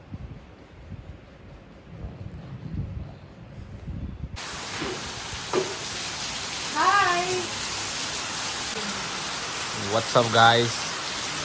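Rain pours down in the Konkan region as a loud, steady broadband hiss that begins abruptly partway through and keeps going without a break, with a person talking over it.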